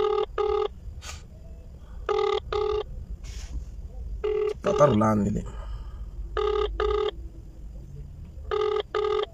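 A telephone rings in repeated double bursts, clear and fairly near, with someone speaking briefly between rings.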